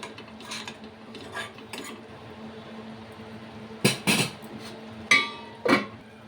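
A taro curry seasoned with cumin powder is stirred in a pan until the oil separates. A metal spoon scrapes and clinks against the pan in scattered, fairly close strokes, with sharper knocks bunched toward the end over a low background hum.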